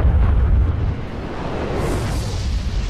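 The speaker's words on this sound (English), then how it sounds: "I think he threw a grenade" A loud, close grenade blast in the video game Destiny rumbles heavily, then fades into a sustained roaring wash of noise.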